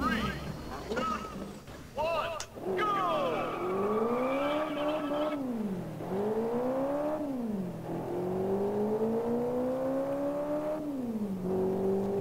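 A car engine in the Test Drive Unlimited racing game revs loudly, rising and falling in pitch through repeated gear changes and acceleration runs, close and continuous.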